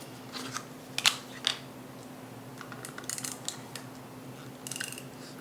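Scissors snipping paper for an iris folding train card, a few sharp close crisp cuts and small clicks spaced irregularly over a quiet background hum.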